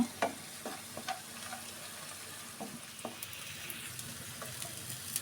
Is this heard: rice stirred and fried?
yes